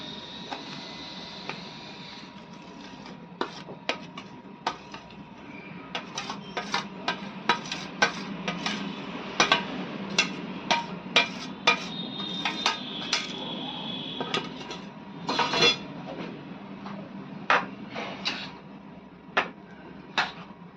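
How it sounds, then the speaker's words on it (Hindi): Dry fruits tipped into hot sugar syrup in a pan with the gas switched off, then stirred: a steady run of sharp clicks and clatters of spoon on metal, close, with scattered louder knocks. "अब हम इसमें अपने सारे ड्राई फ्रूट डाल देंगे।"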